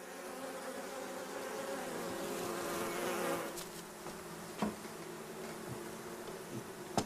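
Honeybees buzz steadily around a hive, a dense continuous hum of many insects with a few individual bees passing closer, faint and unaccompanied by voices.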